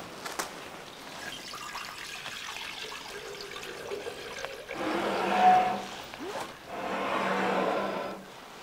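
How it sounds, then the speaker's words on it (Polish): Water is poured from a vessel into a laboratory beaker, a brief trickle followed by two fuller, louder pouring bursts that splash and gurgle close by. "Naleję wody."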